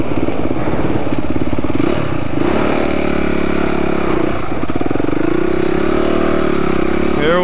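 Dirt bike engines snarl and rev steadily on valley trails on Oahu, Hawaii, a loud, close motorcycle drone rising and falling as the riders accelerate throughout.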